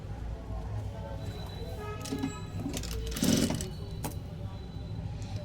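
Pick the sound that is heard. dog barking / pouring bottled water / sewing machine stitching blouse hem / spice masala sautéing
sewing machine stitching blouse hem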